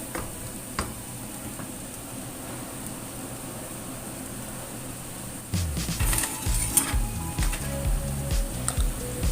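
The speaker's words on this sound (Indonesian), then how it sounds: "Tumis-tumis terlebih dahulu ya, biarkan ayamnya itu sedikit agak apa ya, biar agak sedikit ditumis seperti itu loh" Chicken sautéing in a pan for a clear Indonesian chicken soup, a steady close sizzle with stirring and scraping clatter growing louder and busier in the second half, no talk.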